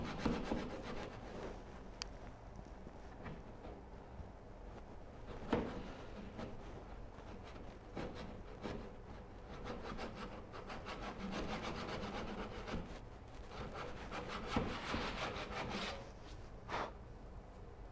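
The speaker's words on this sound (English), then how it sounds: "This is actually a cross-cut carcass saw." A cross-cut carcass saw works through wood clamped in a Moxon vise, giving close, steady rasping strokes that run almost continuously with a few sharper scrapes.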